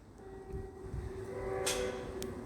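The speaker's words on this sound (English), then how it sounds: "Okay, there's a DVT on its way." A train led by a driving van trailer arrives at Newport station, a steady low rumble building gradually with a brief high squeal partway through, heard fairly close with no talk.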